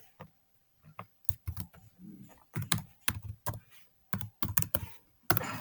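Fast bursts of keystrokes on a computer keyboard as a cat command is typed in a Linux terminal, clicks arriving in quick irregular clusters with short pauses, close and clear, no voices.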